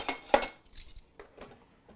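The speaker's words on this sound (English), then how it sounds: "Let me get my measuring spoons out." Metal measuring spoons being taken out in a kitchen, a few close, light clinks and jangles, one sharper clack near the start, then quieter rattles, no voices.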